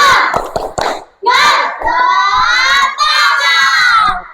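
A primary school class does a rhythmic spirit clap led by their teacher: a few crisp patterned claps up close, followed by the children shouting together in loud sustained voices.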